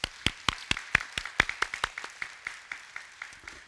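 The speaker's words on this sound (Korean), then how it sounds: "우리 감사한 마음으로 하나님께 우리의 박수 한번 하겠습니다" A congregation at a Sunday church service claps in a quick, fairly even rhythm of sharp, close hand claps that fade gradually and thin out over a few seconds.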